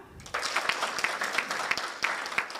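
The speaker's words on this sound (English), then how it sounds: "Let's clap for her" Audience at a project event clapping for a director, a lively burst of many hands starting after a brief pause, with some sharper individual claps standing out, moderately loud.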